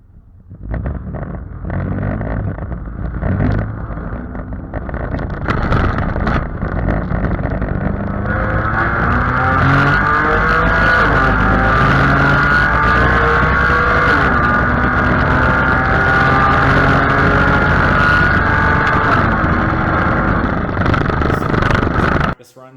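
An Acura TL race car runs against a Subaru at a race event, its engine droning loudly and continuously with rising and falling pitch as it accelerates and shifts, under heavy wind buffeting.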